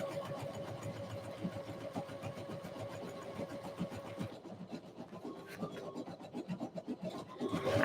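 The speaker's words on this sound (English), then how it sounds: "So we're sewing the third" A sewing machine stitches a fabric ruffle with a quiet, rapid rhythmic whir that shifts and becomes more uneven partway through.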